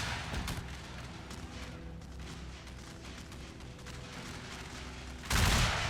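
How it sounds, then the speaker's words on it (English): Highland infantry rifle volleys in a strategy video game battle set among British colonial wars, a dense rolling crackle of massed musket fire with distant booms, ending in one sudden loud close blast. "Wonderful volleys by the Highland infantry."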